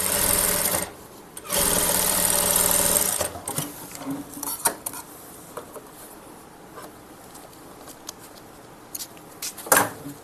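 A sewing machine runs a line of stitches along a fabric edge in two steady bursts, then stops, followed by scattered light clicks and handling noises.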